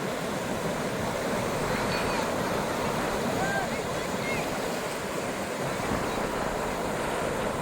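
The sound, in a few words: sea waves at Ganeshgule beach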